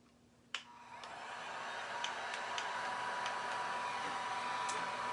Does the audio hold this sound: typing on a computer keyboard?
no